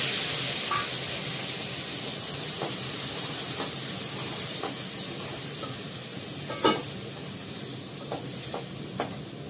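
Dried red chillies and panch phoron sizzle in hot ghee, a steady close frying hiss punctuated by light clinks and scrapes of stirring, with no talk.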